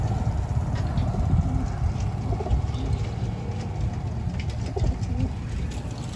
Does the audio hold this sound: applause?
no